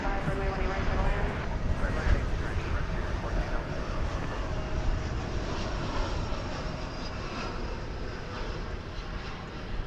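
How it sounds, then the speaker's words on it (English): American Airlines Flight 2560 from Destin–Fort Walton Beach landing at DFW Airport, a steady broad jet engine roar at moderate distance lasting throughout, with faint voices underneath. "I do believe that was American Flight 2560 coming in from Destin, Fort Walton Beach"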